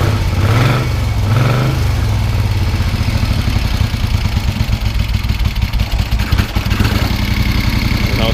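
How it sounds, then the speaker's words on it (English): A 1973 Moto Guzzi motorcycle engine idles steadily close by, a continuous low throbbing rumble with a slightly uneven beat that stays loud throughout, no voices over it. "It likes to be really warm before it wants to sit and idle."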